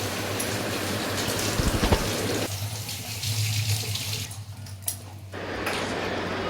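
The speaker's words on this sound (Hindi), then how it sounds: "थोड़ा बहुत अभी भी बचा हुआ है, चलो इसे भी धो लेती हूँ।" Artificial flowers are washed under a running tap, with the water pouring steadily and splashing close by. The flow of the water shifts as the flowers are moved through the stream.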